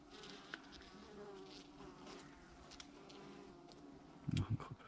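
Honeybees in a November hive inspection at a colony with Varroa mites and crippled bees, giving a faint, steady buzzing hum throughout, with a brief louder knock or rustle near the end.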